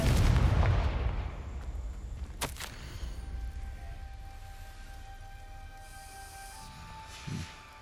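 The Confringo fire spell from a Harry Potter video game goes off as a loud, booming blast with a rumbling tail that fades over several seconds. A sharp crack follows, then a soft short thud near the end.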